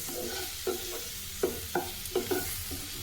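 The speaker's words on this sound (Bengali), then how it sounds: "ভালোভাবে নাড়াচাড়া করে মশলাগুলো এবার মিশিয়ে নিতে হবে" Capsicum with Kashmiri chilli powder is stirred in a pan over a soft frying hiss, with about six distinct scraping strokes spaced through the clip, close and fairly quiet, and no voices.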